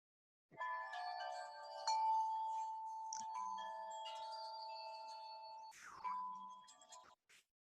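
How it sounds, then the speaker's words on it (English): Wind chimes from the film Twister ring in a sustained metallic cascade, overlapping bright tones shimmering and tinkling together for several seconds, clear and fairly close with no talk. "those are Aunt Meg's wind chimes"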